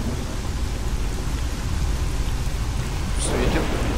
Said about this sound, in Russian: Опять дождь, да мать вашу.